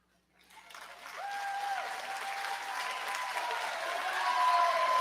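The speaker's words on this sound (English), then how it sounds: "let them know how much you appreciate them with a huge round of applause" Audience applause at a 2023 college graduation commencement ceremony: clapping starts softly from silence and builds into a large, sustained ovation in a big hall, with voices faintly heard beneath it.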